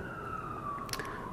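Police siren wailing on a New York City street, a faint steady tone drifting slowly downward in pitch through the short moment, set against low background city noise.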